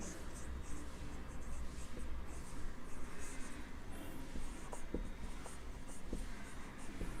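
Pen writing notes on a board or paper during a chemistry lesson, a faint continuous scratching with small taps, steady and quiet throughout with no talking.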